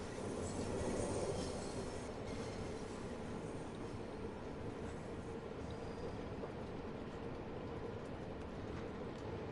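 A TfL train at a station platform in Train Sim World 4, a steady low rumble of rolling wagons with faint wheel squeal, constant and fairly distant, with no voices.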